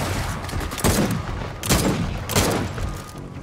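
Three loud, close pistol shots from Gears of War 4, evenly spaced about a second apart, each with a sharp crack and a short echoing tail amid background game noise.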